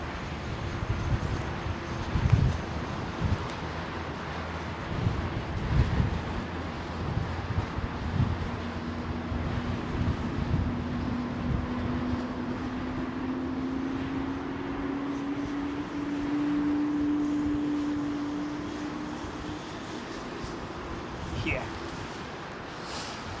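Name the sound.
Rolls-Royce Trent 1000 engine startup on Boeing 787-10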